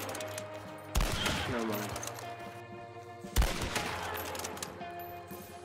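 Rapid bursts of gunfire from the Hunt: Showdown video game, with two sharp loud shots standing out among dense game sounds and music while a player talks briefly.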